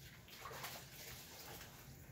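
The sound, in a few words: rinsing hands under running water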